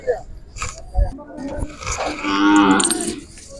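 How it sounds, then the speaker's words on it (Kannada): A bull at the Vijayapur cattle fair in Karnataka lets out a long, loud moo near the end, with people talking and fair crowd noise around it. "ಇಲ್ಲೊಂದು ಜೋಡಿ ಎತ್ತುಗಳಿದೆ"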